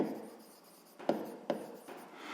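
A pen writes maths on paper in quiet, close scratching strokes, with a few sharper taps as numbers are jotted down.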